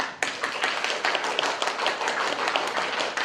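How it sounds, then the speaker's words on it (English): A group claps hands in a fast, steady flurry of sharp, dense slaps, close and fairly even in loudness, with no talking over it. "And I'm going to ask you to clap very quickly."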